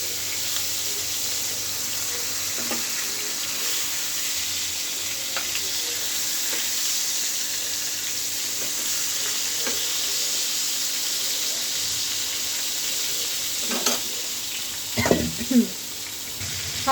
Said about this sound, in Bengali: আর এই চুলায় বেগুন ভাজে নেব।